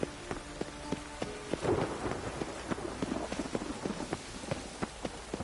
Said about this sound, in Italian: Come cazzo fa a piovere sempre?